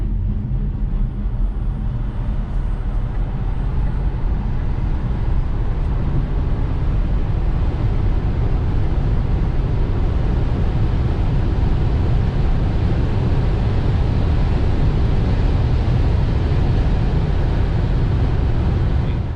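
2021 Tesla Model 3 Performance on 20-inch winter tires accelerating hard in sport mode on a damp track: a steady loud rush of road and wind noise with low rumble, constant throughout.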